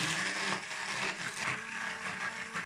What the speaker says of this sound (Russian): Блендер свою работу сделал.